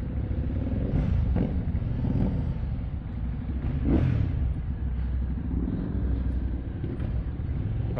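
A Keeway Benda Napoleon 500 motorcycle crawls through a traffic jam, its engine a steady, close low rumble with slight swells in revs, amid surrounding road noise.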